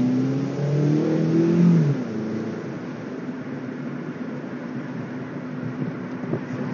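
A video-game car engine revs loudly during a racing maneuver, a rising, wavering roar in the first two seconds that settles into a steady engine drone, with no talking.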